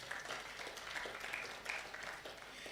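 Audience applause at a prematurity awareness summit, a steady wash of many hands clapping at moderate distance, sustained throughout without speech.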